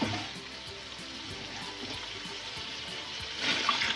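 Water pours steadily into a cooking pot of beef trotters for a paya stew, a soft continuous splashing rush that swells slightly louder near the end.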